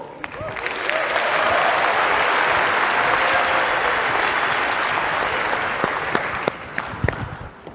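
Sustained audience applause fills a large hall at Sony's E3 2010 press conference, swelling quickly and holding steady for several seconds before thinning into scattered claps near the end.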